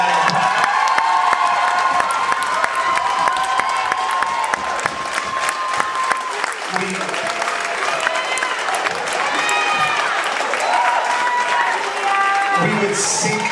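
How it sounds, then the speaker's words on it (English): Camp circus performance day audience applauding and cheering continuously, dense clapping with shouts and children's whoops throughout, loud and sustained. "So let's give her a round of applause."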